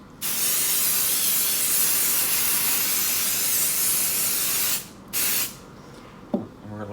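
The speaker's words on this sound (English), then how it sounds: "Then go ahead and spray this." Ease Release mold release agent sprays from an aerosol can in a long continuous hiss for brain casting, then stops briefly, gives one short burst and is followed by a faint clatter.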